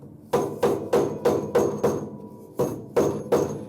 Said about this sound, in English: you always want to use a rubber hammer on any metal parts